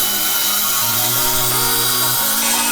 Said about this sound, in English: We use the Milwaukee blower.